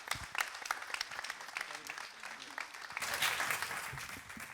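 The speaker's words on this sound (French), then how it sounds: "On peut l'applaudir." Audience applause at a public meeting: a moderately quiet patter of many hands that swells slightly toward the end.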